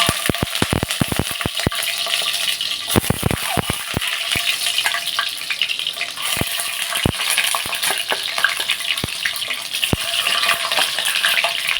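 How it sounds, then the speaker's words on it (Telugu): Eggs fry in a hot pan, giving a continuous bright sizzle broken by sharp crackles and pops scattered irregularly through the clip, close and loud, with no speech. "ఇప్పుడు ఇది చేసుకుందాం మనం ఇప్పుడు గుడ్లు వేసేస్తున్నాం"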